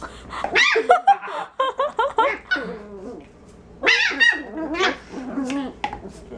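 Small puppies yip and bark excitedly in bursts, with whimpers and playful squeals between, close by and fairly loud.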